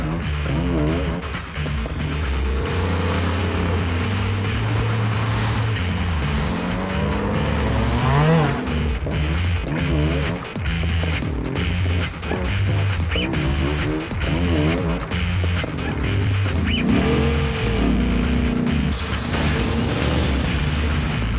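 Hot Wheels racing cars roar past with loud, sustained engine noise and repeated tire squeals on a rocky track, a dense continuous racket with brief skids.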